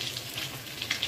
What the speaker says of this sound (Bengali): মশলাটা ওইরকম আমি দু তিন মিনিট কষিয়ে নেব